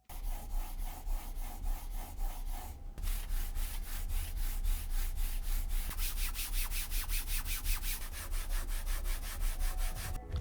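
A computer mouse slides steadily back and forth across an Endgame Gear EM-C cloth mousepad with a tight, smooth weave, giving a close, continuous rhythmic scratchy rubbing with a brief pause early on.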